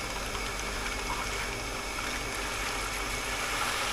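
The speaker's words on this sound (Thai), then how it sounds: "เสียงปั๊มทำงานแล้วครับ" A steady, continuous household water pump hum with a bubbling, watery rush from slight air bubbles, unchanging throughout and fairly close.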